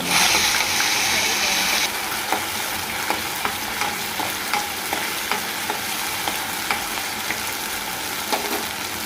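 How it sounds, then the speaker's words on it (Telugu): Capsicum and chicken curry ingredients fry in a pan until golden brown with a steady sizzle, punctuated by regular light clinks and scrapes of stirring; a louder hiss opens the sequence. "గోల్డెన్ బ్రౌన్ కలర్ వచ్చేదాకా వేపాలి"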